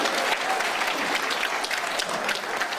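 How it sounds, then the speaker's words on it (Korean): Sustained applause from a political lecture audience in Busan, steady and dense for the whole stretch, with no voices over it. "박수 한번 쳐"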